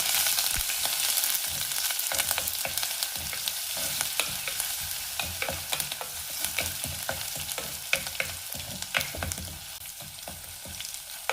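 Dried red chilies, curry leaves and crushed garlic frying in hot oil for a Kerala-style fish curry, a steady close sizzle with crackling pops and occasional stirring scrapes, no voices.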